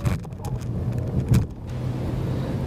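A Peugeot 208 GTI hot hatch lapping a race track, its engine droning steadily at close range with a brief louder surge partway through.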